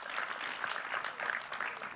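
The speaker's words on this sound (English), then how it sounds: "So yes, a round of applause here." Steady applause from an audience at an Azure partner awards session, a dense, even patter of many hands sustained throughout at moderate, somewhat distant level.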